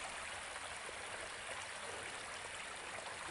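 A stream fed from wooded hills runs across farm property, making a faint, steady rushing hiss with no breaks and no voices.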